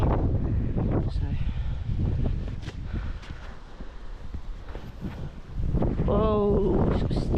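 Wind gusts through a garden, blowing steadily across the microphone as a loud, continuous rumble, with a person's voice heard briefly near the end.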